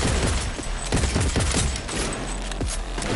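Gunfire rattles in Cyberpunk 2077 during a firefight, loud rapid bursts of overlapping shots with sharp repeated cracks throughout the short stretch.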